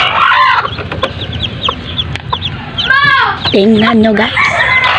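Bantam chickens and a rooster cluck and call in a wet farmyard in the rain, with several overlapping bird calls near the listener and someone speaking over them.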